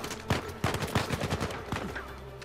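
Gunfire in Uncharted 4: a string of sharp shots, some in quick bursts, over a steady game soundscape, with no talk.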